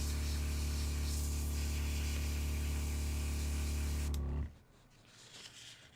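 Paint sprayer hissing steadily as thinned model paint is pushed through it, a loud continuous spray for about four seconds before cutting off abruptly into quiet room tone.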